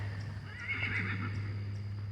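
A homestead horse that wants grain gives a loud, close neigh, a long whinny rising and falling over a steady low hum, alone without talk.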